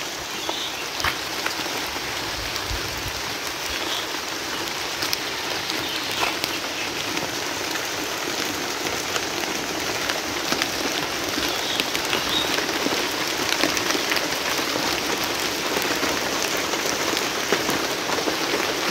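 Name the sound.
rain falling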